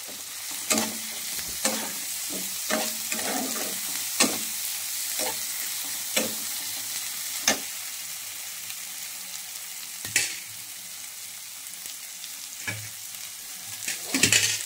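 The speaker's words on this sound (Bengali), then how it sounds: "এটা বেশি একটা মশলাটা আমি কষিয়ে নিই ভালো করে" Chicken masala with tomato being sautéed in a pan for kosha chicken, a steady low sizzle under repeated spoon scrapes and clacks at an uneven pace, close and moderately loud.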